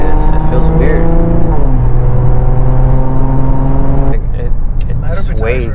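Loud, steady engine drone of a 1000-horsepower Infiniti Q50 Red Sport driving on a street, holding a sustained tone before it shifts in pitch, with people talking inside the car over it.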